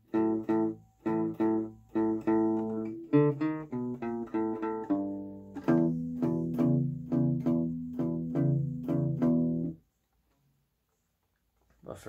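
Guitar plays a twelve-bar blues pattern as a steady run of plucked, ringing notes and chords, close and alone, stopping abruptly near the end.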